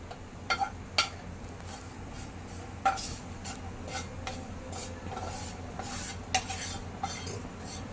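Dry coconut roasting in a pan, a soft continuous rustle under intermittent spoon scrapes and taps against the metal, several distinct clicks spread across the stretch.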